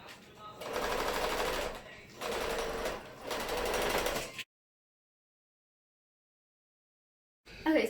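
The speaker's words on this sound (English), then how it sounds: "So I'm just sewing down this line." A home sewing machine stitches a homemade fabric mask in three close bursts of rapid mechanical whirring, then cuts to silence and a brief clatter at the end.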